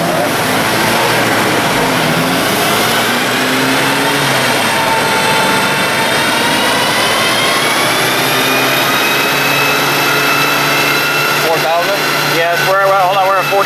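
A Stage 2 MK6 GTI engine holds and builds revs on a dyno in third gear around 4,000 rpm, a loud, steady drone with rising whine harmonics throughout, turbulent rumble near the end.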